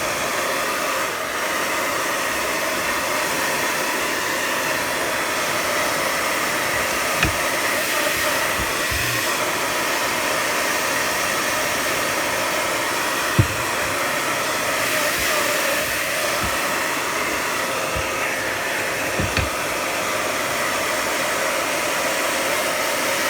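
A hair dryer blows over a freshly painted piece, a realistic fried egg painting, producing a loud, steady, continuous whoosh for the whole stretch with a few faint knocks underneath.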